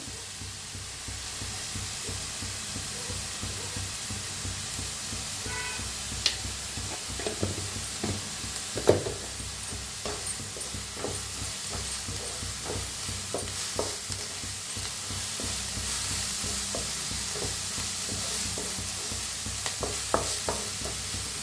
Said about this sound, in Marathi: नुसतं हलवत भाजून घ्यायचा कांदा। मस्त असा कांदा भाजायला लागलेला आहे।